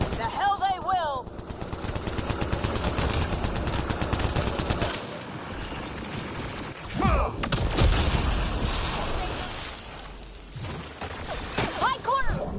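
Dense automatic gunfire from a Mass Effect Andromeda firefight against the Ket, sustained rapid shots layered with shouting voices, explosions and combat noise throughout.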